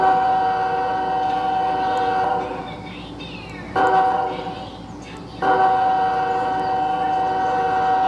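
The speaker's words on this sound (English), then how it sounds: "here is its horn." A BNSF ES44AC diesel locomotive sounds its air horn in three long, loud chord blasts, with brief dips in between, the last blast held steady to the end.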